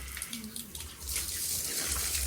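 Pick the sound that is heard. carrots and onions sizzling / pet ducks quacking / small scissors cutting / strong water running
strong water running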